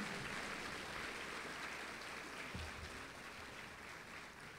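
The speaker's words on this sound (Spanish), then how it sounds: "otra vez esas palmas, a ver, de alegría" Faint, distant applause from a graduation ceremony audience, a soft steady wash of many hands clapping with no voices on top, fading slightly toward the end.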